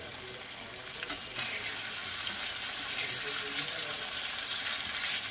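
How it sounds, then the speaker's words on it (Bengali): Bengali aar methi fish curry being gently stirred in a kadai over a raised gas flame, a soft continuous bubbling sizzle with faint scraping that stays even and close throughout. "খুব হালকা হাতে নাড়াতে হচ্ছে, বুঝলেন তো, নাহলে মাছগুলো ভেঙে যাচ্ছে"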